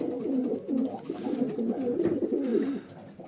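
Pigeon cock birds, fantails among them, coo in an allotment loft, with overlapping throaty rolling calls repeating close and loud with no talk.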